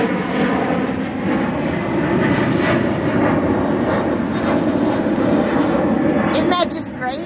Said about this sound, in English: There's a plane going over.